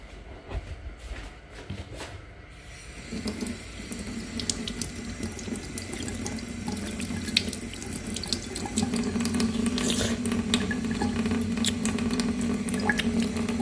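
Star fruit washed under running tap water in a village home: a steady, close gush of water that grows fuller and louder as the flow splashes over the fruit, with brief handling noises at the start.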